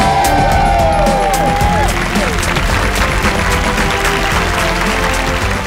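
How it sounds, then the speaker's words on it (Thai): A studio audience at a Thai cooking competition cheers and applauds two contestants, dense clapping and whoops held steady and loud throughout, with a voice briefly rising over the noise early on. "เสียงปรบมือให้ทั้งสองคนด้วยครับ"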